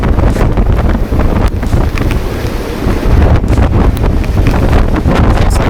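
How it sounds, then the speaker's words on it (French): Strong outdoor wind batters the microphone in loud, continuous roaring gusts with no break, buffeting heavily throughout. "Sacré vent."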